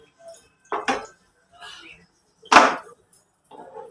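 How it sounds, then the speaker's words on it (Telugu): A cooking pot for mutton dum biryani is set down on a lit gas stove, giving a couple of short metallic clunks and clatters close by, with quieter handling noises between them. "ఇప్పుడు ఈ గిన్నె అట్టుకెళ్ళి గ్యాస్ మీద పెట్టేసుకోవచ్చు"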